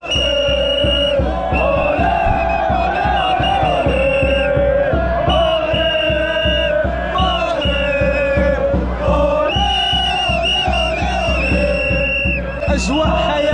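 Dense football crowd chanting and singing inside a packed stadium before a Morocco vs Congo match, a loud continuous roar of many voices with rhythmic chants pulsing throughout.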